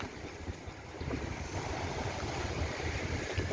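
Wind and surf at Jomtien beach in Pattaya, Thailand: steady gusting wind buffeting the microphone over a continuous wash of breaking waves, loud and close with no talking.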